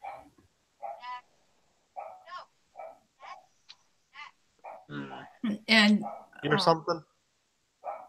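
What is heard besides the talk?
dog barking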